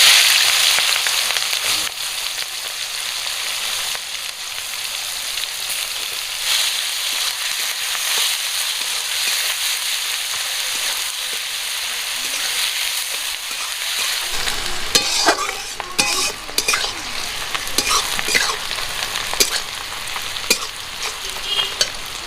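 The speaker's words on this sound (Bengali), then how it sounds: "পেঁয়াজটা ভাজা হয়ে গেছে" Chopped onion and green chili frying in oil in a pan with dried red chilies and a spoon of sugar, a loud steady sizzle that shifts into rougher scraping and stirring near the end, with no talking.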